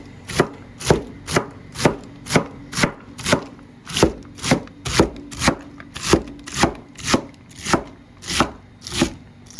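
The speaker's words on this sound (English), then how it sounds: "I'm gonna cut these stems in segments like I did earlier" Knife chopping Swiss chard stems into segments on a cutting board, a steady run of crisp, evenly spaced chops, about sixteen strikes, close and clear with no voices.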